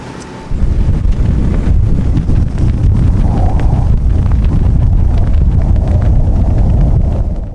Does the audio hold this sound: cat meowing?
no